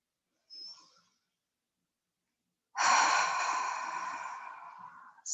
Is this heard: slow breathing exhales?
yes